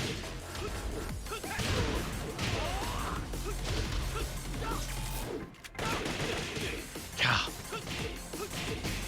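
Gunfire and crashing impacts from the Tekken 7 video game fill a busy fight, with loud bursts and whooshing hits, a short gap near the middle and a sharp crash afterward, under occasional game dialogue.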